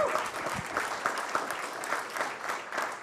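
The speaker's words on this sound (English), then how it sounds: "I think another round of applause for this man here" A crowd at a county budget update meeting gives a round of applause for a man, with continuous moderate clapping throughout.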